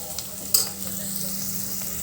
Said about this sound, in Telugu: ఒక స్పూన్ వేసుకున్నామండి. బాగా ఫ్రై చేసుకున్నాము.